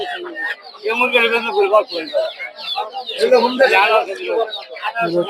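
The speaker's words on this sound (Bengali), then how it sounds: "এগুলো হচ্ছে দেশি মুরগি বাচ্চা" Native domestic chicks and hens cluck and chirp in a busy, close cluster at a rural village poultry market, with people talking alongside the birds throughout.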